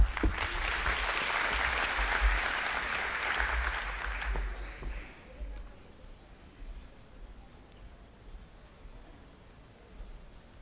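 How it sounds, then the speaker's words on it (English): Thin, scattered clapping from a graduation ceremony audience fades after a few seconds into a quiet hall murmur, leaving only faint room noise. "applause are very slim, as though you're not proud of your families that are graduating today"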